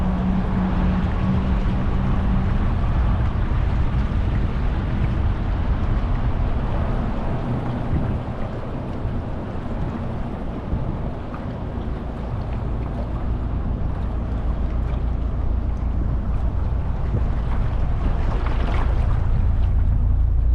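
Dual-engine boat on the Colorado River near Hoover Dam, a loud steady motor roar with water rush and wind buffeting the microphone throughout, no talking.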